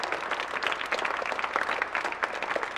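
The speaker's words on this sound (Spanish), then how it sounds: "démosle un aplauso también a nuestra madre" Congregation applause during a choral Mass, a sustained round of many people clapping with distinct individual claps, moderately loud and steady throughout.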